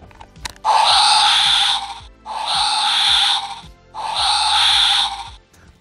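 A Jurassic dinosaur bones transport T-Rex toy with lights and sounds plays the same electronic roar-like call three times, each burst about a second and a half long, loud and close, separated by short pauses with faint clicks.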